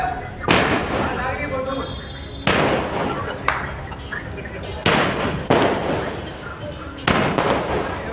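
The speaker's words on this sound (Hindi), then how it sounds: "भारतीय जनता पार्टी कार्यकर्ता पटाखे बज रहे हैं।" Firecrackers set off by party workers celebrating an election win in Haryana, India go off in a rapid series, five or six sharp loud bangs spaced a second or so apart, each leaving a crackling, rumbling tail.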